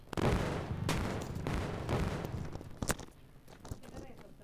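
Explosion and gunfire-like blasts in the Indian Bike Driving Simulator video game, a loud broadband burst at the start followed by several sharp hits fading out, with a voice talking over it.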